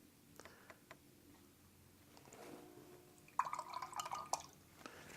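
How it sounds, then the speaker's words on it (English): A watercolor paintbrush is swished and tapped in a container of water, giving soft close drips, light clinks and a brief burst of rinsing splashes, faint and quiet throughout. "Rinsing my brush so that it's just got clear water on it"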